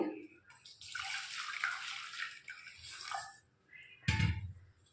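Water splashes and pours in uneven bursts for a few seconds, close and fairly quiet, with a heavier splash near the end.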